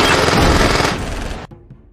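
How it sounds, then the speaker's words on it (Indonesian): A rapid burst of loud automatic gunfire rattles for over a second, then cuts off abruptly into near silence. "Mendengar suara tembakan"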